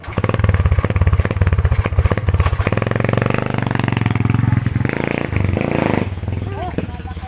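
A motorcycle engine runs loud and close with a rough, rapid putter that holds steady, then eases and picks up again near the end, while people talk over it.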